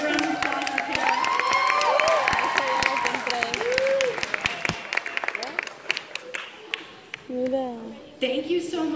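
A studio audience claps and cheers for a guest joining a stage show, strong at first and then thinning into scattered claps with talking voices over the tail.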